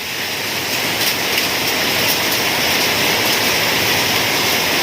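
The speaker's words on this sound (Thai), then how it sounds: "นี่ครับเป็นเม็ดขาวๆเลยครับเนี่ยลูกเห็บทั้งนั้นนะครับ" Heavy hailstorm pounding outside a house in Thailand, a dense, loud, continuous roar of hailstones drumming on surfaces, unbroken throughout with no voices.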